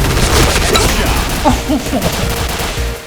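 Grenade explosions and gunfire in the shooter game Point Blank, a dense, continuous barrage of loud blasts and shots running through the whole moment with no clear pauses.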